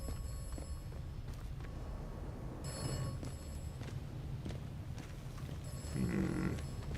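Old telephone bell ringing in the video game Atomfall, two bursts of rapid metallic ringing some distance away, heard over a steady low ambient rumble.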